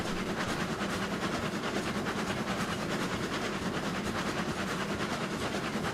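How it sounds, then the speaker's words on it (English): Video-game freight train with two locomotives hauling ten loaded cars uphill at about 18 mph toward a coal mine, a dense, steady rumble and rattle of rolling wagons, continuous and fairly loud without speech. "we're going 18 miles an hour uphill with 10 loads, 2 locomotives"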